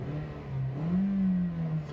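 A 2018 Toyota Yaris with a 1.5 liter 106 horsepower engine is revved once, its steady hum rising in pitch and then easing back, close and alone.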